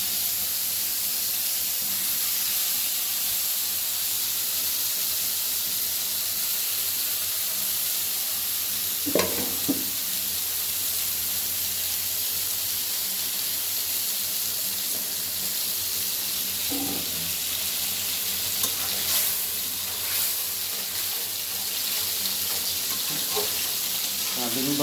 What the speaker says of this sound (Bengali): বেগুন আলু ভাজবে।